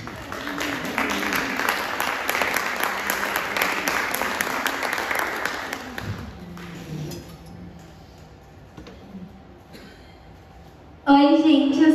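Audience applause greets performers taking the stage at a community cultural evening, dense clapping for about six seconds before fading to quiet room noise, then a voice starts speaking close to the microphone.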